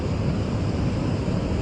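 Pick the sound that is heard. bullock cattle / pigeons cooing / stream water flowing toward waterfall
stream water flowing toward waterfall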